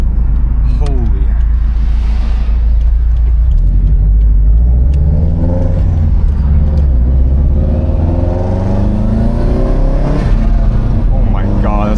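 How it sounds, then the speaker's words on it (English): A turbocharged, stanced Subaru Impreza revs its engine hard, a loud, steady low rumble with rising and falling pitch sweeps and turbo whistle, close by, while people talk excitedly over it. "I really hope you guys can hear those turbo noises."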